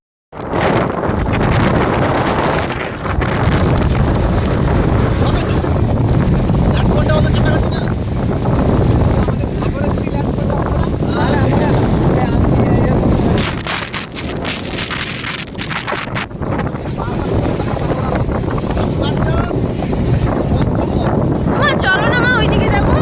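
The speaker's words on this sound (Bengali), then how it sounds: "যদিও ভয়েস দিয়েছিলাম ভয়েসে কিচ্ছু শোনা যাচ্ছিল না, এত বাতাসের আওয়াজ ছিল" Cyclone Remal's strong wind batters the microphone in the Sundarbans with a loud, continuous roar and buffeting gusts that ease briefly, then return. A voice speaks beneath it, nearly drowned out.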